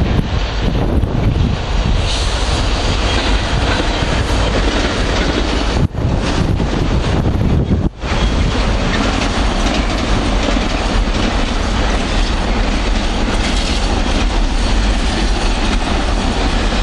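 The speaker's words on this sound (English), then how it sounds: "And we've got a freight coming down." A freight train rolls past close by at Werrington Junction, a loud, continuous rumble and clatter of wagons with rhythmic wheel clicks, buffeted by wind noise on the microphone throughout.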